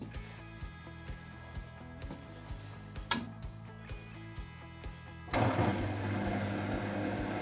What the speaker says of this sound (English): we'll put this onto spin mode,